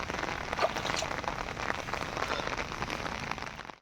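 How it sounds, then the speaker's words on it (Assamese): Steady rain pours down continuously, a dense, even hiss of drops on surfaces that fades out at the very end. "ৰাতিপুৱা 7:30 বজাৰ পৰা বৰষুণ পৰি আছে, মানে নেৰানেপেৰা বৰষুণ"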